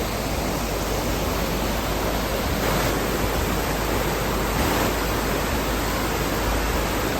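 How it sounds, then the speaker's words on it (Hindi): A river flowing through a forest gives a steady, dense rushing roar that never lets up, close and loud, with no voices. "नदी का शोर, जंगल के दरमियान एक सुकून सा माहौल।"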